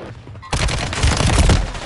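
Sudden burst of rapid video game gunfire, loud and dense, with a faint lead-in before the shooting starts and continues without pause.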